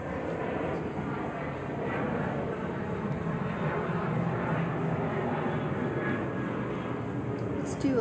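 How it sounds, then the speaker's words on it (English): Airplane passes overhead as a steady, broad roar that swells slightly and holds throughout, fairly distant and continuous, beneath a live outdoor music setting. "here comes a plane."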